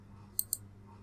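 A computer mouse clicks twice in quick succession while editing a setting in the AWS console, sharp faint clicks close together over a quiet background hum.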